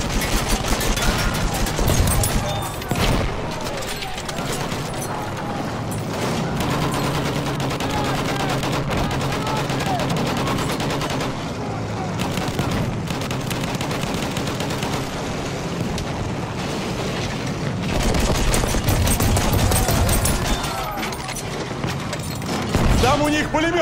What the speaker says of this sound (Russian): Там у них пулемет!